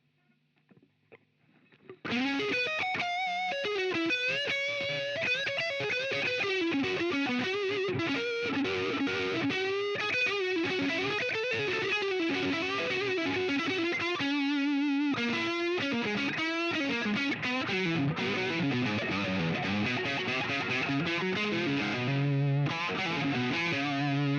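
A distorted Gibson Les Paul Slash electric guitar on its neck pickup plays a fluid, sustained lead line with a warm, rounded tone, loud and continuous with no talking.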